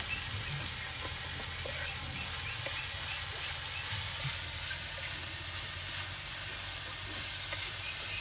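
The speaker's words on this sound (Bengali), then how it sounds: "এই যে দেখুন আপনার পেঁয়াজগুলো কিন্তু একদম ভালো করে এই যে মশলার সাথে তেলের সাথে আপনার ভেজে নেওয়া হচ্ছে।" Chopped onions and chilli fry in oil with spices for a Bengali pangas fish bharta, giving a steady dense sizzle that holds even and close the whole time, with no voices.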